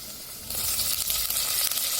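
Tomatoes sizzle in a hot pan for a Karnataka sorrekai (bottle gourd) dal, the frying hiss steady and close, swelling louder after a brief start, with no voices.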